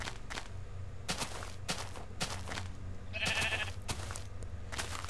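Blocky sheep in Minecraft bleat in short repeated calls amid soft game footsteps and faint background sounds, fairly quiet, with no voices.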